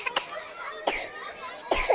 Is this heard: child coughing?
yes